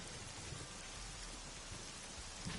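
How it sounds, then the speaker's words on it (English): In Ai: The Somnium Files, rain steadily pelts a parasol, a dense, continuous patter at a soft, even level with no talking or other sounds standing out. "A parasol is getting pelted by the rain."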